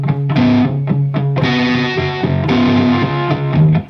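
A distorted electric guitar plays an intro riff with effects, heard alone and loud: short choppy stabs first, then longer sustained chords with a bending high note near the end.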